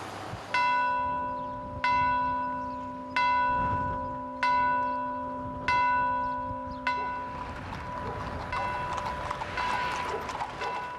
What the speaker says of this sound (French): Bercées au son des cloches